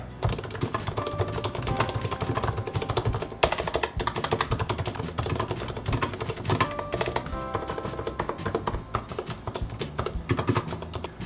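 Rapid, continuous typing on a quiet Leopold FC750R mechanical keyboard with silent red switches, a dense run of soft key clicks with brief pauses, close up and steady.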